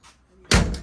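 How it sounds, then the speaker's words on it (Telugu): A heavy door on a long Continental car swings shut with one solid, close thunk, preceded by a faint brief rustle. "మనం డోర్ వేసేద్దాం."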